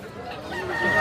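A rooster crows briefly at the Tongi chicken market, a short strained call rising out of faint market background noise.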